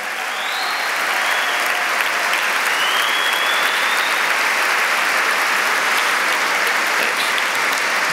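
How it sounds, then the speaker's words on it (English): Applause from a large gala audience honoring first responders fills the room, a dense, loud, sustained roar of clapping that builds in the first second and holds steady throughout. "give them and everyone that's working this room as a first responder and everyone in the street that's protecting us tonight a big round of applause"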